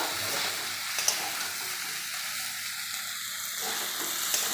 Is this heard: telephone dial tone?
no